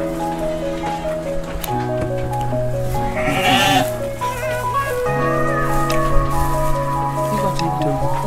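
Sheep and goats bleat on a goat farm holding black-headed Dorper sheep, several drawn-out wavering calls overlapping close by, with some squishy movement sounds and faint talk underneath.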